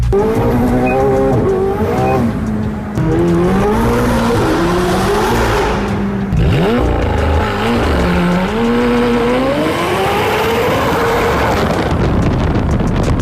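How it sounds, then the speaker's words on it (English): A McLaren Senna drifts with long, loud tire squeal and a wailing engine that rises and falls over more than ten seconds, close to the microphone and buffeted by wind noise, with no talk. "How much drift you want? All of it."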